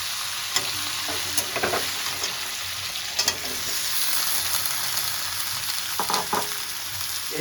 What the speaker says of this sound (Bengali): এবার আমি এই তেলের মধ্যে এঁচড়গুলো হালকা করে ফ্রাই করে দেবো